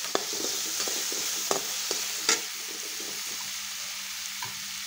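Food being stirred in a hot pan after coriander goes in, a quiet, even sizzle broken by scattered scrapes and light knocks of the spoon against the pan.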